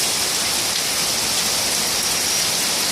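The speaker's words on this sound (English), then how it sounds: "I'm going to enjoy the rain and the thunder while it lasts" Steady, dense rain falls without a break, a loud close hiss of drops hitting surfaces, with no voices.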